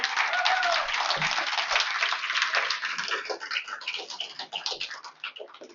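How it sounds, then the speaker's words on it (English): An audience at a League of Women Voters MLK birthday event applauds a panel, a dense roll of clapping that thins and tapers toward the end. "give another round of applause for this wonderful panel"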